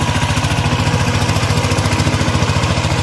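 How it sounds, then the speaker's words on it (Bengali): A power tiller engine ploughing a muddy potato field, running loud and close with a steady pulsing chug throughout, no voices over it. "কাঁচা মাটিতে জমি চাষ করেছে, থেকে থেকে মাটি চাকা স্লিপ করেছে"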